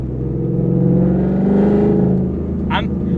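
A 2014 Ford Mustang GT's engine revs hard and pulls under acceleration, a loud, steady, deep roar that swells and holds for several seconds from inside the car.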